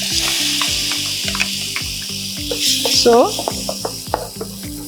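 Onion paste sautéing in a little oil for a pistachio gravy, giving a steady close sizzle with a repeating stirring scrape running through it, while a person speaks briefly over the cooking.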